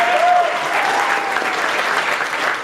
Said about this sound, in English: Give it up for KC.